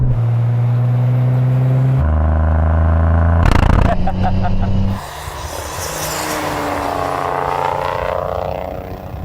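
A 600hp GR Yaris drag races a Nismo R35 GTR from a rolling start in sixth gear. Engines roar loudly and steadily as the cars pull hard, with a sharp burst and a shift in the engine tone partway through, and voices under the noise.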